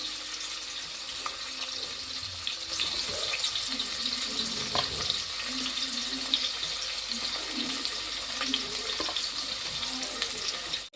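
Chopped onions frying in oil inside a pressure cooker for chicken gravy, a steady hissing sizzle that runs on without a break, with faint clinks of stirring and no talk.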